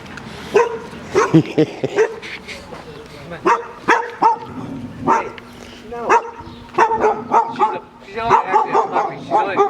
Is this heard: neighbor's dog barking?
yes